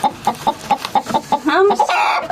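A broody hen clucking close by in a steady rhythm of short, evenly spaced clucks, then rising into a longer, agitated squawk at the end.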